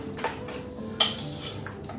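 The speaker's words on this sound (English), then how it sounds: "we're just going to stir them around till they're well mixed" A spoon scrapes and clinks against a dish while breakfast casserole ingredients are stirred together, with a few sharp knocks standing out over a steady low clatter and no talking.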